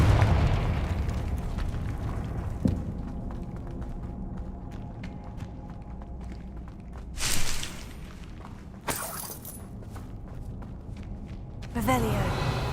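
Spell explosions burst in the Hogwarts Legacy video game, a couple of muffled booms and sharp pops rising over a steady rumbling game soundscape, with a player talking in the background.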